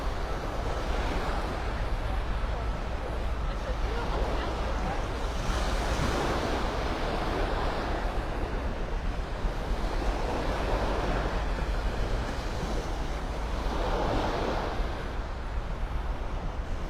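Gulf waves surge onto the beach at Delnor-Wiggins in North Naples, a continuous broad roar that swells and recedes in slow cycles, mixed with wind buffeting the microphone.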